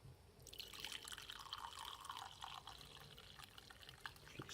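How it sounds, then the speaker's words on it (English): Coffee poured in a steady, continuous stream into a cup, a soft liquid splash and trickle heard alone and fairly faint. "Pour into your cup of choice."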